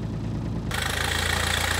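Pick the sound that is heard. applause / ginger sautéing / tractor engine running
tractor engine running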